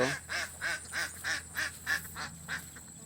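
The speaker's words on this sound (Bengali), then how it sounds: "দেখুন কি সুন্দর হাঁসের দল" Ducks quack in a steady rhythmic series, about nine or ten calls in quick succession, clear and fairly close.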